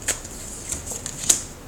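A tarot card deck is shuffled in short riffling bursts, a few crisp flurries of cards close by with soft gaps between, no talking.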